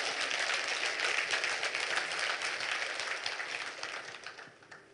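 A congregation applauds during a Friday worship service at a Korean church, a dense, even roar of many hands clapping at once that holds steady and then gradually thins and fades toward the end.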